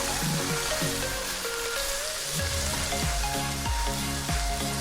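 Chopped tomatoes sizzling in a pan for mutton biryani, a steady dense hiss like light rain that holds evenly throughout, with a low patterned hum underneath.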